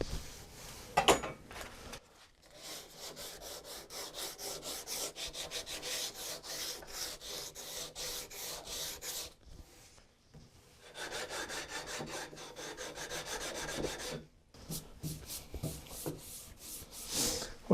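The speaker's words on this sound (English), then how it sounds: "I just give it a little bit of a roll over with the scraper, just to the bottom of those bindings." A hand scraper works along the squared edge of a wooden guitar neck toward its bindings in steady, close rasping strokes that continue in long runs broken by brief pauses, with no talking.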